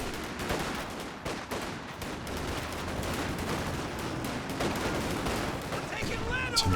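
Sustained .50 cal machine gun fire from Company of Heroes 2 battle, a dense continuous clatter of shots and impacts with a louder burst near the end, and some voice in the mix.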